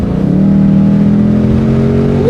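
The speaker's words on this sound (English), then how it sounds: "we're finally at a point where the road is open and we can give her a little throttle" A 2021 Ford Mustang GT C/S, bought flood-damaged, accelerates hard on an open road, its loud, close engine roar rising steadily in pitch through the gears with no talking.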